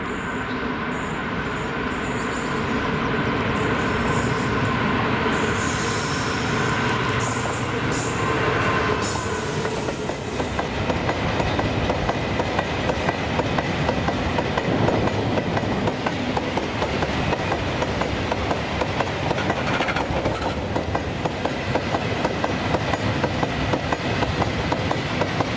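A GB Railfreight engineering train hauled by a Class 66 locomotive, 66705, rumbles past on the Ayrshire coast line, loud and continuous, with wheel squeal and rhythmic clickety-clack building as the wagons roll by.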